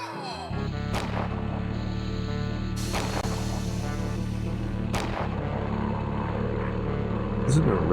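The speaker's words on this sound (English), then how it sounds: "That's the country fellow, shooting his gun in the air like you just don't care." Gunfire from an enemy shooting into the air in a homemade video game, heard as a few sharp broadband cracks spaced a couple of seconds apart over a steady, loud droning game soundtrack.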